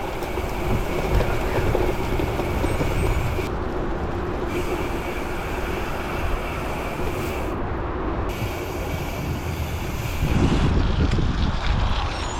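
Strong wind roars over the microphone of a gravel bike rider out on a country ride, a loud, continuous rushing buffet that swells and dips for over ten seconds with no voices.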